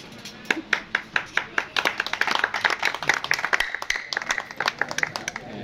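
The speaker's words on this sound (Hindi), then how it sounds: "तो बड़ी हैवी ताली है यार।" Heavy applause from a tournament audience honouring prize winners, close steady hand-clapping that starts as distinct claps and thickens into a dense ovation over several seconds.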